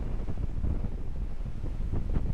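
Wind buffets the microphone at a campsite at Marcis Point, Tanay, Rizal, in a steady, low rumbling roar, with gusty fluctuations throughout and no voices.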